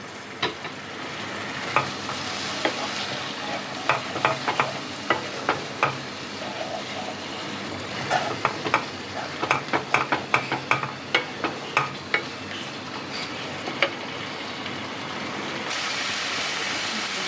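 Spice masala cooked down with a little water and coriander powder, sautéed and stirred in a kadai for kadai chicken; a steady sizzle runs throughout, punctuated by rapid clicking scrapes of a spoon against the pan, close and alone.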